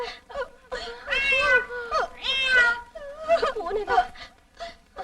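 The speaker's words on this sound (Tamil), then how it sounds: "பூனைடா." A cat meows in a string of drawn-out, wavering cries, close and moderately loud, rising and falling with short pauses between calls.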